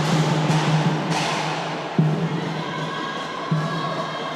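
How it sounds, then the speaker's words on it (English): Basketball crowd noise at an indoor championship game, a sustained roar and cheering after a free throw, with a few sharp bursts standing out from the broad, steady din. "you can hear the roar from the crowd"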